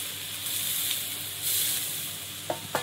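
Tomato and green chili frying in a pan give off a steady, close sizzling hiss, with a few sharp spatters near the end.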